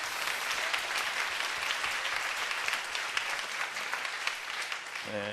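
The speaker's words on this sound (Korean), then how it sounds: "우리 힘차게 박수로 하는 경험 드리겠습니다" A church congregation claps enthusiastically in a dense, sustained wave of applause that holds steady before tapering off, with a voice faintly beginning at the very end.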